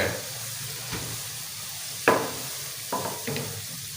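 Bread finger chips frying on low heat give a soft, steady sizzle with a few brief clinks and stirring knocks. No one speaks.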